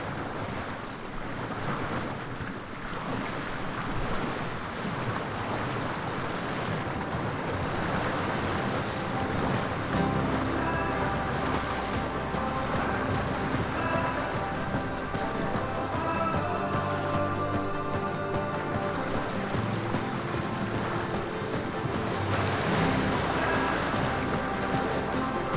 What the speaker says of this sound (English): trying to get a decent wind-free recording of sailing, which is actually very difficult